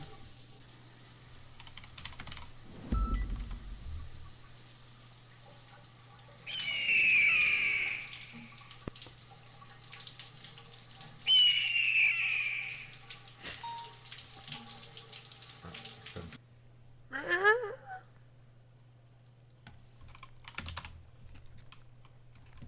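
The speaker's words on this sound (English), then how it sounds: "That's the sound of a faucet." A faucet runs and shuts off in GTA V NoPixel, a video game, among brisk computer keyboard typing, several short watery bursts and clicks over a steady low hum.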